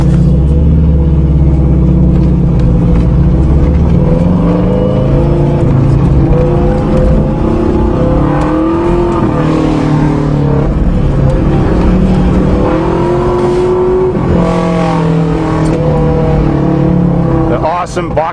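Subaru boxer engine idling and running after a cold start, loaded with options but lacking turbo and all-wheel drive, a steady loud low rumble throughout with a voice talking over it near the end.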